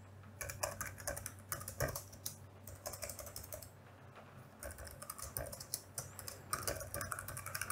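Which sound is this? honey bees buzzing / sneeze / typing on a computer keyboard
typing on a computer keyboard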